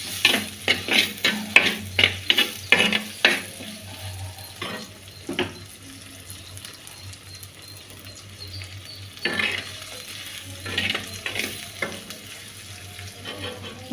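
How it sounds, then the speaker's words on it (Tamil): A spoon stirs and scrapes through ingredients sautéing in sunflower oil for a sardine fish curry, with a quick run of stirring strokes over a steady sizzle that continues softly, with occasional further stirs. "அதையும் போட்டு நல்லா வதக்கிட்டு நல்லா வதங்கிடும்."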